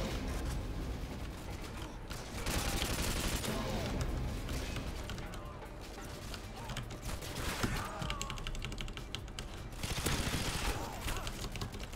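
Machine gun spray fire in the modded Modern Warfare 2 gun game rattles in dense, continuous rapid bursts with mechanical clanks, loud and close, with game noise and a voice under it.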